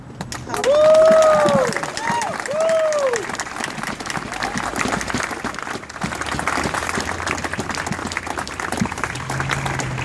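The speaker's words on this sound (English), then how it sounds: "You need to applaud yourselves for just taking this stand" Audience applause and cheering at a San Francisco public defenders' Black Lives Matter event, a steady roar of clapping with whoops that rises loudly at first and then continues at a lower level across the clip.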